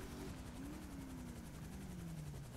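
A helicopter engine in the video game GTA 5, a loud, steady rotor drone with a whining tone that slowly falls in pitch and fills the whole stretch with no talk.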